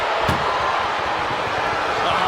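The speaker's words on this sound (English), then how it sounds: "Trying to close the second door." An ambulance door slams shut with one sharp bang during a WWE Raw ambulance match, over a roaring arena crowd and talking commentators.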